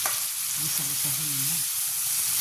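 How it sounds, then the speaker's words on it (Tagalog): Freshly picked banana heart sautéing in a hot pan, a steady close sizzle and crackle of frying with a soft stir, no talking. "ilalagay na ang bagong pitas na puso. Ayan. Gisa-gisahin na."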